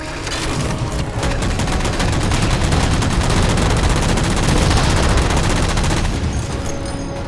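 Dense, sustained gunfire from Halo 4 as jammers are shot down, a loud continuous barrage of rapid shots with booming impacts running the whole time and no talk.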